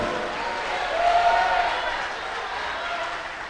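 A church congregation claps and cheers in a sustained wash of applause that swells briefly and then holds steady.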